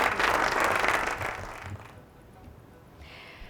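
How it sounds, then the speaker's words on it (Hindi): An audience at a quiz competition breaks into a short, loud round of applause for a correct answer, which dies away after about two seconds, leaving quieter room noise. "वाह, तालियां हो जाए जी, क्या खेल गया है लड़का"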